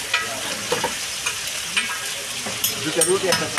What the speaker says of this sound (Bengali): পরোটা ভাজা কড়াইয়ে মুরগির চাপটা ওখান থেকে দিয়ে দেয়